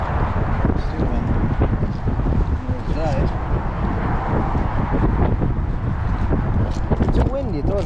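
Heavy wind buffeting a microphone outdoors on a windy day at an RC plane flying field, a constant loud rumble with people talking over it.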